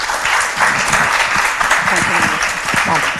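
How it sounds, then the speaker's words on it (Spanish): Audience applause at a Spanish book launch for author Cristina Atienza, steady dense clapping from a room of people filling the whole stretch at even loudness. "Pediría un fuerte aplauso para ella"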